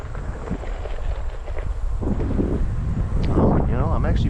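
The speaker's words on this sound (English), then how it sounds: "Oh, you know, I'm actually feeling some wind here." Gusty wind beats against a microphone outdoors, a loud, continuous low rumble that swells toward the end, with a voice talking under it.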